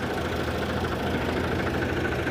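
A tractor engine on a Punjabi farm runs steadily at a constant, rumbling idle, loud and close with no letup.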